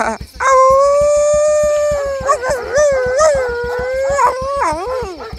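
A man imitates a dog with a long, loud, wavering howl close by, the pitch rising and falling through several drawn-out cries over a low rhythmic pulse.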